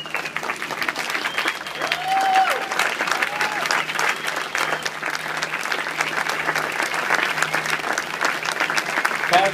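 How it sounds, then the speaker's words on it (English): Church congregation applauding and cheering in praise, steady dense clapping with scattered whoops and voices throughout, loud and sustained. "release a sound of praise and thanksgiving"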